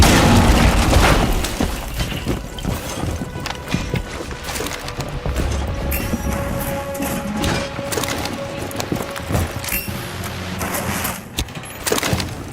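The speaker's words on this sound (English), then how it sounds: "Grenade." Grenade going off in a tactical shooter such as Rainbow Six or Arma 3: a loud, dense blast at the start settles into a steady roar of rumble and clatter that runs the whole length, with no single clean boom standing apart.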